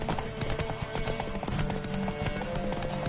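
In Witcher III on PS5, a horse's hooves clip-clop in a brisk, continuous gallop, loud and close, with game sounds layered underneath.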